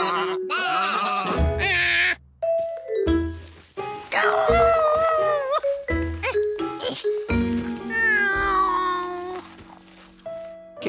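Sheep bleating in a Curious George cartoon, with several wavering bleats over a busy music bed, loud and close.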